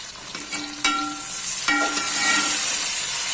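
Two large tomatoes fry with green chillies in a pot, a continuous sizzling hiss broken by a couple of ringing metal clinks from stirring, close and fairly loud.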